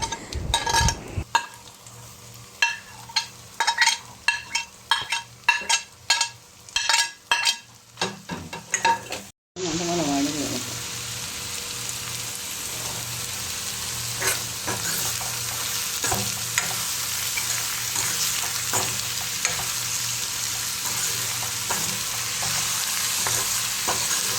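Ginger, garlic, curry leaves, chopped banana flower and onions sautéing in a pan for an evening snack, first a run of sharp spoon clinks and scrapes against the vessel, then a loud steady sizzle with stirring taps throughout.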